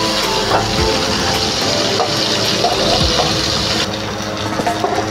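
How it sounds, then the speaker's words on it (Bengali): Pointed gourd fries in oil in a kadai with a dense, continuous sizzling hiss, close and fairly loud, and no voices. "পটলগুলো একটু লাল লাল করে ভেজে নেব।"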